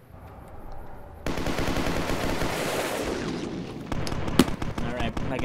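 Gunfire in the video game Fallout: New Vegas, a sudden loud burst of rapid automatic shots that runs for several seconds, then breaks into scattered single cracks and one sharp bang.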